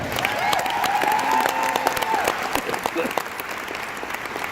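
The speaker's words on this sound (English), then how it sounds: "Big round of applause for Amber" Audience applause with cheering breaks out after a motivational talk, a dense wash of clapping punctuated by whoops and a sustained high whistle, steady and loud throughout.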